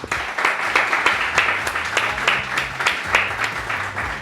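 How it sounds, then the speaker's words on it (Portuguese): Audience applause for an athlete after an interview, a dense crowd of clapping held at steady loudness throughout, with rapid overlapping hand claps. "Uma salva de palmas, obrigado."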